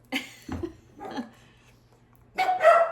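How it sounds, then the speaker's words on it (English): Several sharp dog barks come in separate bursts with quiet gaps, slightly distant, the last burst louder and busier. "there goes the dogs"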